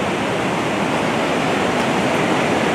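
Rain falling by a river at night near a bridge, a dense steady hiss of rain and running water, loud and constant throughout, with no talking.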